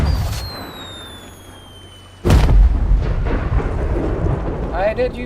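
In the pirate game Sea of Thieves, a firework whistles as it falls, then bursts with one loud, close boom. A rumbling crackle trails off after the blast, with no voices over it.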